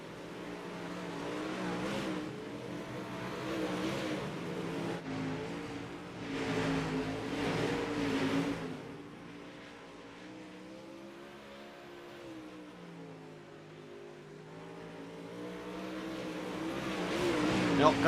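Race cars rounding the front straightaway of a dirt track on the final laps, engines roaring in a steady, loud wash that swells as they pass, with an announcer talking over the top.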